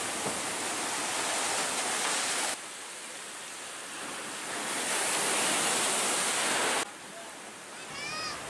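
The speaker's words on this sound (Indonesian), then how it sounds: "Puluhan rumah dan lapak jualan di sepanjang pantai Sari, Kota Pekalongan, dihempas gelombang tinggi." High sea waves crash on Sari beach in Pekalongan, Java, a loud, broad roar of surf that swells and recedes in long surges, with the water rushing continuously.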